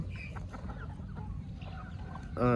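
Chickens cluck on a poultry farm, several birds close by in a steady overlapping chorus, with a sharper call rising near the end.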